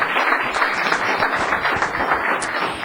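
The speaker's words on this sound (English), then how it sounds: "Now we can applaud" An audience at a town council meeting applauds steadily for a few seconds. The clapping is dense and even, filling the room at moderate volume with no voices over it.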